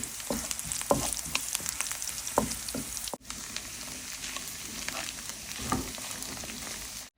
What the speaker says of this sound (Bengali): বাগা দেওয়ার সময় বেশি করে পেঁয়াজ আর রসুন দিব শাক হয়ে গেছে শাকটা এখন আমি বাগার দিব